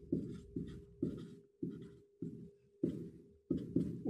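Pen scratching numbers onto paper, a series of short rhythmic strokes of soft friction with brief pauses between, close and quiet, with no talk.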